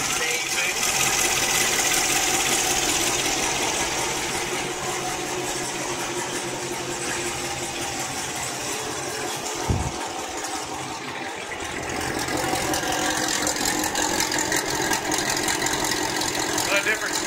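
A Chevrolet C7 Corvette engine idles on its first start after new headers were installed, with a continuous, even rumble lasting throughout and dipping briefly midway.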